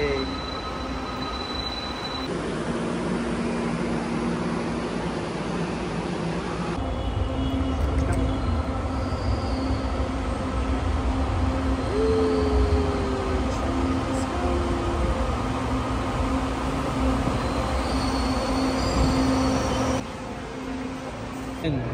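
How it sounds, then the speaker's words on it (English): Steady rumble of a train in motion, heard from inside a carriage in the Philippines, with constant rolling noise and faint wheel squeal; a few voices speak in the background. "So we're gonna ride train to Recto."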